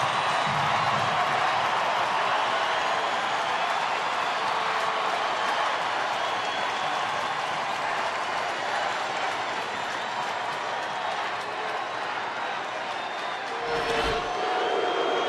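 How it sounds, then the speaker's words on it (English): A big crowd at a Dodgers baseball game roars steadily across the stadium, a sustained wash of cheering and clapping with a brief thump near the end. "Big crowd alive right now."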